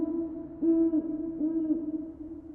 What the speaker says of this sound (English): As you can tell, that is an owl.